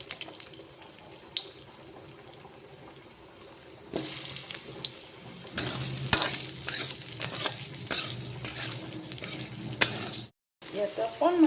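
Potato pieces going into a pan of frying singi fish curry: quiet kitchen noise, then a loud close sizzle with stirring scrapes that stops abruptly before resuming briefly.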